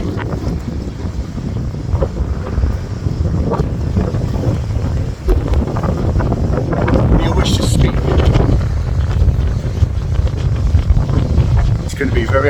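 Strong wind roars and buffets the microphone continuously, a dense low rumble with gusts, while a voice speaks faintly underneath.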